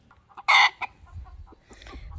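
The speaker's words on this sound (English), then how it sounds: "So that's the rooster" A rooster on a spring homestead gives one loud, close crow-like call, then a short cluck and scattered fainter clucks over soft background noise.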